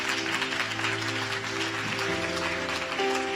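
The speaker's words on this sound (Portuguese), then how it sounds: "você pode aplaudir o Senhor aqui nessa noite?" A church congregation claps steadily for the Lord, a dense, continuous wash of applause layered over sustained keyboard chords that fills the whole moment.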